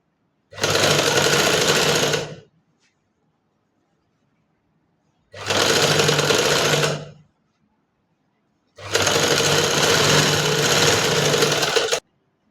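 Sewing machine stitching a frock, running in three loud, steady bursts of about two, two and three seconds with short silent pauses between, no talking.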